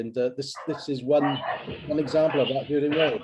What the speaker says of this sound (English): Is that Mike's dog?